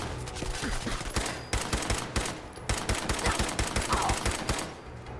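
Rapid volleys of gunfire in Fallout 4, bursts of loud, sharp shots crowding together almost continuously with brief gaps, close and dense like a firefight.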